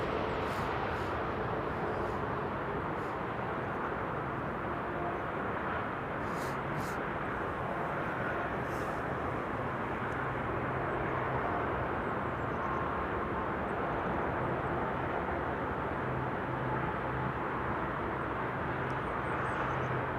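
A jet airliner arriving at Amsterdam Schiphol Airport produces a steady, broad engine roar that holds at an even level for the whole stretch, heard from a distance outdoors.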